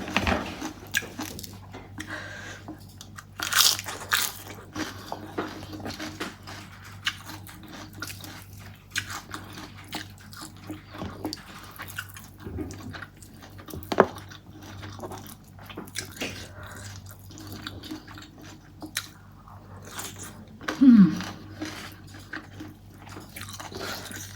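Crunchy biting and chewing of grilled chicken and papaya salad, close up, with steady soft crunches and wet mouth sounds throughout and no talk.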